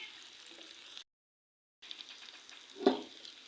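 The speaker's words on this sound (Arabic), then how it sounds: "ملح وفلفل اكحل، ونخليهم مليح يتقلاو" Chicken balls frying in a pan with spices, salt and black pepper, a faint close sizzle broken by a short silent gap and a brief stir near the end.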